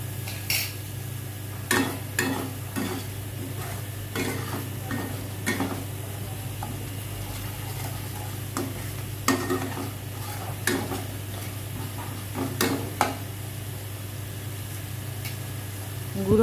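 A spoon stirs and scrapes vegetarian ghugni, made without onion or garlic, as it sautés in a pan. Irregular sharp clinks sound over a steady low hum and a soft sizzle.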